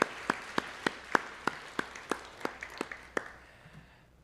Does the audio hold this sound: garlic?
no